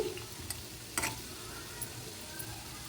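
Chicken frying in a pan over a medium flame, giving a steady low crackling sizzle throughout with a few brief sharper spatters and clinks near the start and around the one-second mark.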